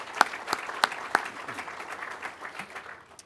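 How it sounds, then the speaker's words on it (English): Applause for families at an Air Force undergraduate pilot training graduation, with a few sharp claps standing out near the start and then a thin, quieter patter that fades away. "So a round of applause for our families, please."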